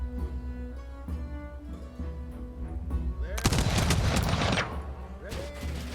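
Units open fire in the Humankind strategy game, a sudden dense burst of rapid gunfire volleys lasting over a second over a steady music bed.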